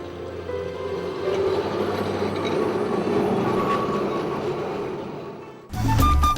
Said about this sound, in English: Now this tram line is going to take me to another safe haven